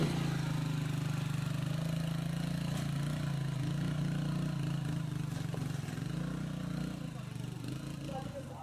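A motorcycle travels rough mountain tracks in Haiti, its engine a steady, close, droning hum that eases slightly toward the end.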